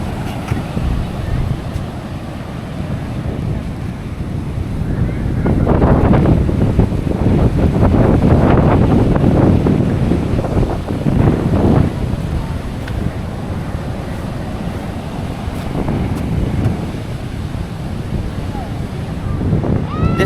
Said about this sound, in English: This is Eco Beach for you.